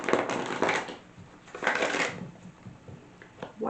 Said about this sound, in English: Can get two more shuffles.